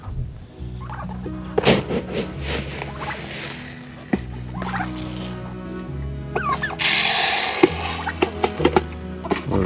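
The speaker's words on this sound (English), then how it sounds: "So we got 4 turkeys." Four turkeys gobble repeatedly in a backyard coop while eating thrown bread, with loud close calls that come in bursts, plus pecking, rustling and a hissy wing-flapping flurry toward the end.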